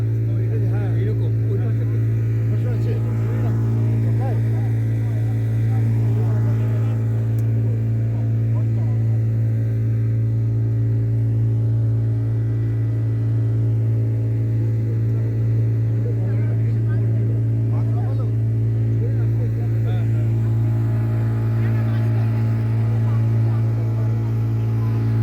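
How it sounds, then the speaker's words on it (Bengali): Steady low drone of a ship or boat engine at Nature Park, Taratola, Kolkata, a loud constant hum with a strong tonal throb, while people talk faintly in the background. "জাহাজ বাড়ি যাচ্ছে।"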